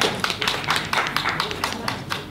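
An audience applauds after a ribbon cutting at a Sydney press conference, the clapping pulsing in loose rhythmic bursts over a steady crowd murmur.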